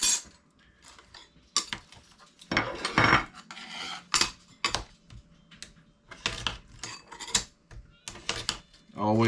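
Metal scraping and gouging on a hard drive's disc platter, likely aluminum, in bursts of harsh rasping and clinking with short pauses between, loud and close.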